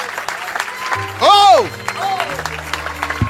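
A church congregation at a revival meeting claps and cheers under loud amplified voices, with one voice shouting a sustained rising and falling exclamation.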